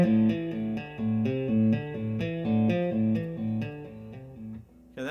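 Fender Stratocaster electric guitar played with pull-ons by the fretting hand alone, a quick repeating run of legato notes in a steady rhythm, clear and close with no talking.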